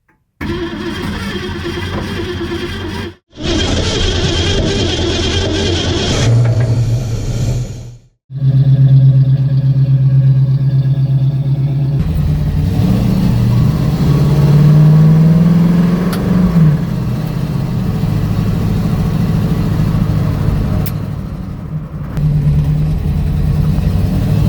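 A 1965 Ford Mustang, sitting unused for 44 years, cranks over in bursts with brief pauses, then catches and runs, its engine idling loud and close with repeated revs rising and falling.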